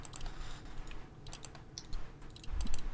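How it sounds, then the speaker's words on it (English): Rapid, irregular clicking from a computer mouse during a game of Minesweeper, a close, dense flurry of sharp clicks with no talking. "I'm trying to sporadically help myself by rapid clicking."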